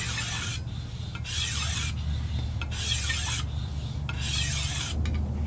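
Knife blade sharpened on the stones of a TSPROF Kadet Nero sharpener, steady rasping strokes back and forth in regular rhythm, close and loud with no talk.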